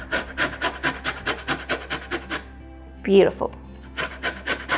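Lemon zest being grated by hand, a steady run of rhythmic rasping strokes, close and fairly loud, broken by a brief pause and a short spoken word before the strokes resume.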